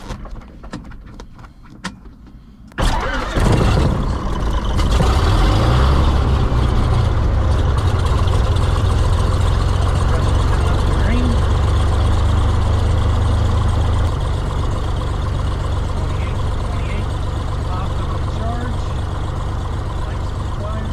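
A small airplane's piston engine catches after a magneto start and settles into a loud, steady idle close by, holding a continuous drone with a low rumble that eases slightly after a few seconds.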